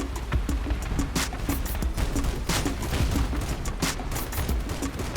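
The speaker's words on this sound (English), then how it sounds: "he's got that turreted 88mm cannon" Turreted 88mm cannons fire in the vehicle combat game Crossout, a rapid string of sharp bangs and bursts over constant battle noise.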